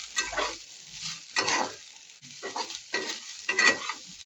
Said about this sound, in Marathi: आपली घेवड्याची शेंग एक मिनिटभर परतलेली आहे आता आपण त्यामध्ये मोटकीचे मोड पण आपण भाजून घेणार आहोत